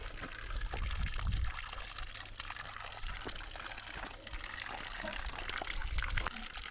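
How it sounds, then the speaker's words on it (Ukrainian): Mineral water flows from an old borehole spring, a continuous rushing, splashing stream that stays steady and fairly close throughout. "Звідом пішла вода мінеральна. І ось прямо я до неї підходжу."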